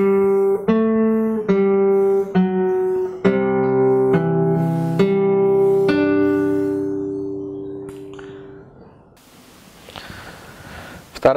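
Plucked fingerstyle acoustic guitar phrase from a piece, a series of clear ringing notes over an open bass, played alone and close, the last chord fading out to quiet room noise.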